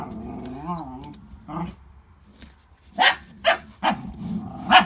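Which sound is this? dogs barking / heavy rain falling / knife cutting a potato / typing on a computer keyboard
dogs barking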